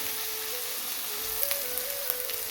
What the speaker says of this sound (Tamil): இந்த கஜுவையும் போட்டு நல்லா வதக்கிடுவோம் வெங்காயம் நல்லா வதங்கவும் பண்ணிடல ஒரு ரெண்டு நிமிஷம் வதங்கட்டும்